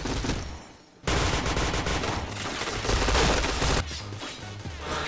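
Bursts of rapid automatic gunfire from a video game, loud and dense, start abruptly after a short quiet gap and carry on for several seconds before easing into lighter, scattered shots.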